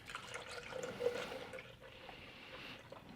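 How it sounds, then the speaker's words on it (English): Milk pours steadily into a Ninja Luxe Cafe cup, making a soft, continuous liquid splash and trickle that stays faint and even throughout. "Pour the milk in here to about 8 ounces."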